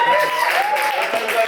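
Audience applause and cheering for a comedian at a Philadelphia comedy show, a dense steady wash of clapping with crowd voices mixed in throughout.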